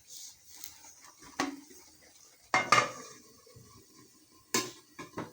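A metal lid clanks down onto a pot of mango cooking in sugar syrup on a kitchen stove, giving a few sharp knocks and rattles separated by quiet gaps.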